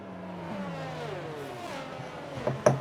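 Engines of racing cars in an F1 video game race, a steady whining drone with shifting revving pitch throughout, swelling into sharper bursts near the end.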